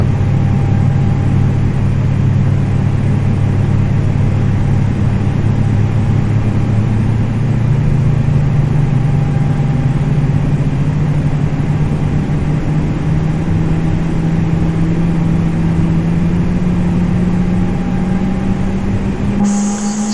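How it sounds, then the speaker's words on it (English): A simulated A320neo jet engine in Microsoft Flight Simulator 2020 spools up, a low droning whine climbing slowly and steadily in pitch over a constant rumble for about twenty seconds, with no talking. "You can hear the sound of engine starting up."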